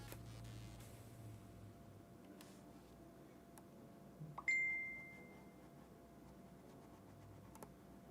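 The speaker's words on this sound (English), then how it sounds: "Phone's dinging" A phone notification gives a single clear ding partway through, faint against a quiet room hiss. A few soft clicks and taps come before and after it.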